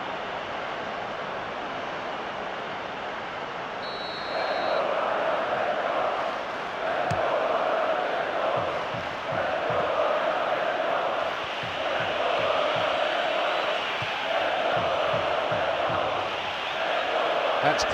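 A stadium crowd from the football video game PES 2013 roars as a continuous wash of noise, swelling louder after a few seconds and pulsing in repeated waves of chanting under a commentator's voice.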